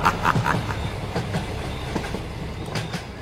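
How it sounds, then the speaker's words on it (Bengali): A train rolls along the rails with rhythmic clickety-clack of wheels over joints and a steady rumbling roar, fairly close and continuous throughout. "এমন সময় দূর থেকে একটা ট্রেন আসছিল।"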